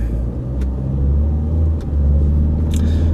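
A Jaguar car rolls past with a steady, loud low rumble of engine and tyre noise that swells and holds for a few seconds, close by on the road.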